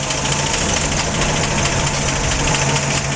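A 1953 Ford two-door's engine idling nearby, a loud, steady rumble with an even mechanical patter and no voices.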